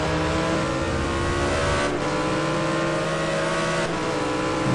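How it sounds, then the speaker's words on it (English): Corvette race car accelerating hard on the straight at Anderstorp during an STC Black Cup round, its loud engine roaring steadily and rising in pitch through gear changes, with brief dips between shifts, close and continuous. "I think the Corvette is really good to have out on the straight with all the torque it has"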